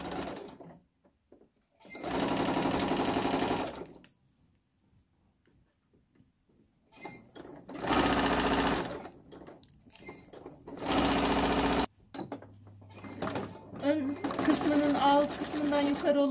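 A sewing machine stitching children's shorts runs in several loud, steady whirring bursts separated by pauses, with someone talking between and over the runs.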